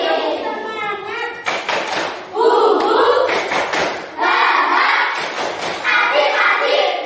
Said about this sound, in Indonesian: mari kita tepuk semangat terlebih dahulu ya